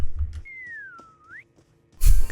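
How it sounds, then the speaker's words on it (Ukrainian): Players in a Roblox Backrooms game whistle once: a single clear sliding tone lasting about a second, falling then rising at the end, over a quiet low hum, followed by a burst of laughter. "Це, до речі, ми посвистіли, якщо що."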